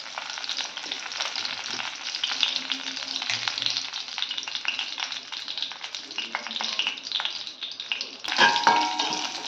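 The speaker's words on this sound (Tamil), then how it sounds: "எண்ணெய் காஞ்சோன்னா தாளிக்கிறதுக்கு காஞ்ச மிளகாவும் கருவேப்பிலையும் போடும்." Steady crackling sizzle of curry leaves and dried chilies frying in hot oil, with scattered pops and a brief louder burst near the end.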